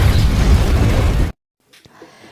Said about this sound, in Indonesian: menembak mobil Bishop dari kejauhan sehingga menghancurkan mobilnya karena ledakan